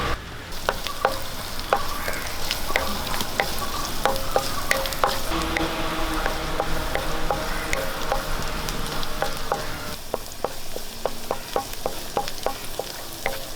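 Ginger, garlic and green chillies fry in coconut oil, a dense continuous crackle and sizzle close up, punctuated by frequent scraping stirs of a spoon against the pan, with no speech.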